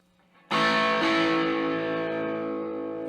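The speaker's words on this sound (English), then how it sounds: "Turbo Distortion on." Electric guitar through a Boss DS-2 Turbo Distortion pedal into a Fender Deluxe Reverb amp, miked with an SM57: a single loud, heavily distorted chord strikes suddenly and rings out thick and buzzing, sustaining with only a slight fade.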